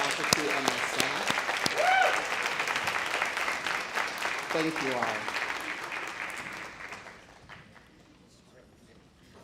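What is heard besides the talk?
audience applause for faculty and staff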